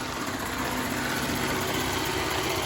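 An iRobot Roomba s9+ robot vacuum running on low power over thick carpet, giving a steady, loud motor whine and rushing airflow that stays constant and close throughout, with no talking.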